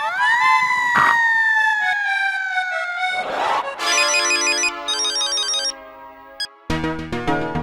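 A phone ringtone plays in an Indian family sitcom scene, starting with a long sliding tone, then a noisy burst and a bright repeating electronic melody of chiming notes.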